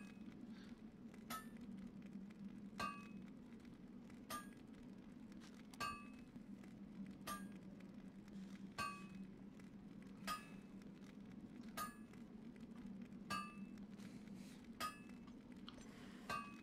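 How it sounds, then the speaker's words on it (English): Sharp metallic hammer clinks ring out about every one and a half seconds in a regular, repeating pattern over a low steady hum at an event, faint and without speech. "I may kill that hammer sound just for people's sanity."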